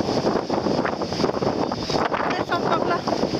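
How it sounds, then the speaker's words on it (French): Wind in Roscoff rushes and buffets the microphone in a loud, continuous roar, with a faint voice buried underneath. "Ici, on retrouve le vent."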